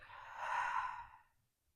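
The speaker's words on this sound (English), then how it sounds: "Taking a really big, inviting breath through the nose, but open the mouth to breathe out" One long, soft breath released through an open mouth after a deep inhale through the nose, a gentle sigh-like exhale close by in a quiet meditation setting, fading to silence.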